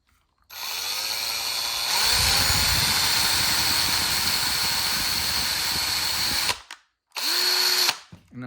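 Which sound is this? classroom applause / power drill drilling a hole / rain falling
power drill drilling a hole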